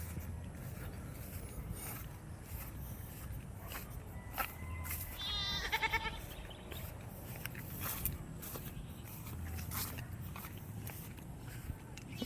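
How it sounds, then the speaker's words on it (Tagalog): Goats bleat on a farm while a doe gives birth, with one clear, wavering bleat in the middle among faint shuffling, footsteps and background noise. "Nanganganak na raw yung kambing eh."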